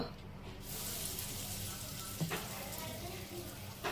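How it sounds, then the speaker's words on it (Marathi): Asafoetida tempering in hot oil for a cauliflower-potato curry, a soft steady sizzle that swells in after a moment of quiet, with a few light clinks of a spoon against the pan; faint and close. "आता आपण भाजीला फोडणी देऊया त्याच्यासाठी मी इथे तेल घेतलं आता टाकूया थोडं हिंग"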